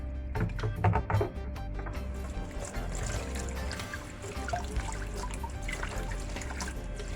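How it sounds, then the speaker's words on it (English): Saltfish being rinsed under running water for an ackee and saltfish dish, a steady close splashing and trickling flow with a few louder sloshes early on and no talk. "Just wash off your saltfish."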